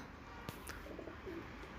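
A pigeon gives a soft, brief coo, faint and somewhat distant against low background noise, with no voices.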